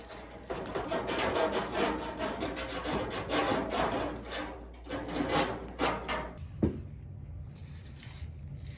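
Copper pipe for a pool water heater being deburred, a close, continuous scratchy rasping and scraping that runs for several seconds, eases off, then ends with a small knock and quieter rubbing.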